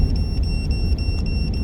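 Truck engine running at idle, a steady low rumble with a faint rattling tick and a thin high whine, close and continuous with no talking.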